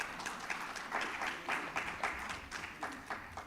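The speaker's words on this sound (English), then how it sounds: "Please, another round of applause for him, right?" Applause from a conference audience for a trade-in-goods director at a regional conference on special economic zones, a steady patter of many hands with several swelling bursts, moderately loud and fairly close, with no speech over it.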